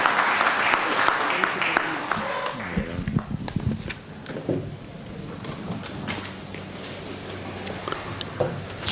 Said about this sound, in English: Shall we give another round of applause for our keynote speaker?